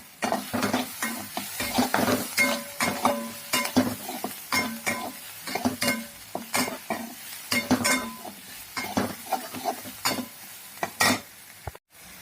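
Ginger, garlic and chillies fry in a pan, sizzling in close, rhythmic bursts as a utensil stirs and scrapes, with occasional clinks against the metal. No one speaks, and the sound stops abruptly near the end.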